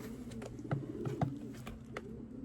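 Soft, low racing pigeon coos repeat several times at a steady pace, fairly close, over a faint background hum.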